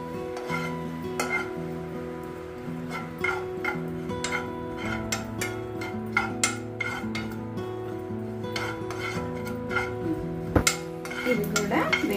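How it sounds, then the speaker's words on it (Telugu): Cumin seeds roasting in a pan, with steady light crackle and repeated scraping and tapping of a spatula against the metal, plus a constant low hum from the stove or kitchen behind. "జీలకర్ర తొందరగా వేగిపోతుంది అనుకోండి."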